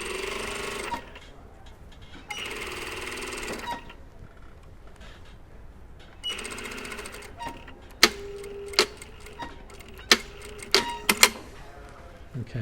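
A sewing machine stitches down a rectangular patch pocket, running in three bursts of steady whirring with pauses between, then sharp clicks and clunks of handling toward the end.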